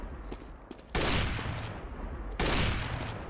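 Two sustained bursts of rifle fire in a CS:GO esports match, rapid rattling volleys heard close and loud with a quiet gap between them, over faint background game noise.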